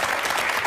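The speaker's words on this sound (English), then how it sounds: "they do their own applause" Audience applause from a studio crowd, a short dense burst of clapping, close and continuous.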